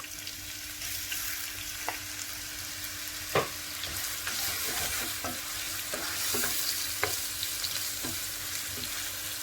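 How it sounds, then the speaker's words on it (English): Onions frying in oil in a pan, a steady close sizzle with occasional stirring clacks and scrapes throughout. "In the same oil we're going to add our onions."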